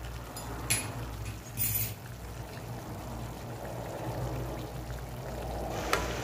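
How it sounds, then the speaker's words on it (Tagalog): Pickles and their brine poured into a cooking pot of simmering carrots and potatoes, a soft close splash and trickle with a few light clinks of a container, fairly quiet. "pwede nang ilagay ang pickles at ang sabaw nito"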